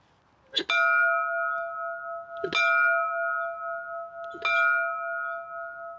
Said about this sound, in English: Would you like to ring the ship's bell?